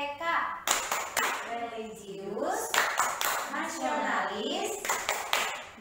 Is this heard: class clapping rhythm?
yes